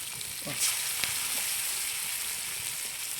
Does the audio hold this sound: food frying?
yes